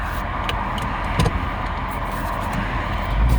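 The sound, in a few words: Ford Mustang car engine running in sport mode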